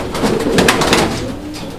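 Domestic pigeons, a breeding pair in a loft, coo in low soft repeated phrases close by, with faint bird calls mixed in and no talking.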